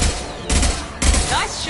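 Rapid bursts of video game gunfire, loud and close, in quick bunched volleys with short pauses between them, under excited shouting from a player.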